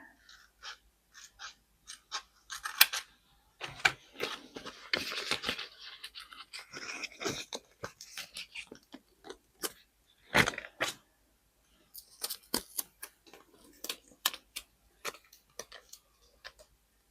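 Scissors snip through a sheet of planner stickers in a quiet room, with a long series of sharp close clicks and short crunches, some in quick clusters and some spaced apart.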